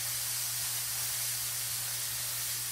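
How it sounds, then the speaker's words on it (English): Liver and onions fry in a skillet with a steady, unbroken sizzling hiss that stays even and close throughout, with no talking. "we just gonna let that fry until the onions get done"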